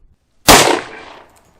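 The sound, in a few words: Colt Delta Elite 10mm pistol gunshot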